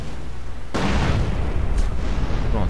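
A sudden, loud blast erupts in GTA San Andreas after a quiet lead-in, followed by a sustained roaring rumble with a second crackling burst partway through.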